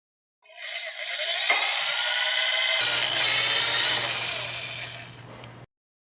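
A power drill whirs steadily at close range for several seconds as it drills into a seal, its pitch shifting slightly as it bites in, then it stops.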